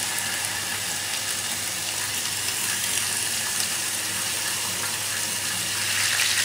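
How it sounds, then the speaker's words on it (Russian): Duck pieces fry in duck fat in a hot pan, giving a steady close sizzling hiss that continues evenly with no voices. "Сковорода разогрелась, и я выкладываю сюда уточку."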